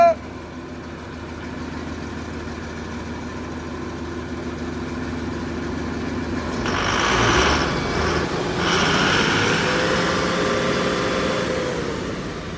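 A steady engine idles with a constant low rumble, growing slightly louder and rougher partway through, with faint voices in the background.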